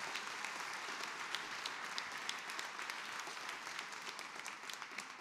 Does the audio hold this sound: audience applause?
yes